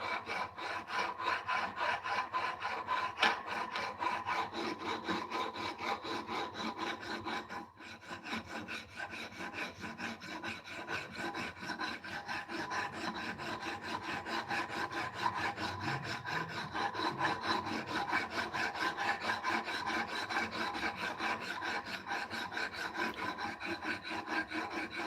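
A triangular three-sided file rasping back and forth across wood in steady, even strokes, a dry continuous scraping that runs for the whole stretch with one brief pause, close up and with no voices.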